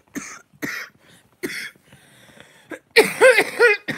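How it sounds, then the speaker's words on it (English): A person coughs several times in short, separated bursts, followed by a rougher, raspier string of throaty coughs, close and fairly loud. "every time I open my mouth, I'm going to cough"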